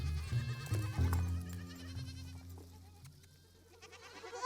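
Goats kept by a settled Nama herder in the Kalahari bleat faintly and at a distance, with a few wavering calls early on that fade into quiet open-air background.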